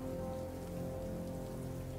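Steady rain falls in the Batman Arkham Knight video game, a quiet continuous patter and hiss with no talking.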